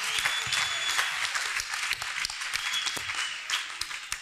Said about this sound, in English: Wow, clap for Jesus Christ.